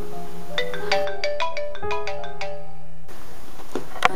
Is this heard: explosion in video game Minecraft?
no